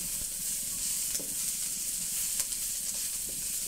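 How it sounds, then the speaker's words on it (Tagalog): Onion and garlic sauté in a pan at home, giving a soft, continuous sizzling hiss with a few faint stirring clicks, steady and fairly quiet. "Lagisa natin yung sibuyas."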